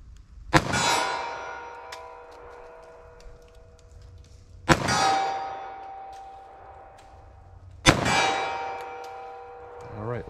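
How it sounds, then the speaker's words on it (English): .45 ACP pistol fired at a target 25 yards away: three sharp, loud shots spaced about four seconds apart, each with a ringing metallic tail, and no talk. "I'm just gonna start from 25 yards, see what I can get. I'm just gonna fire a few rounds."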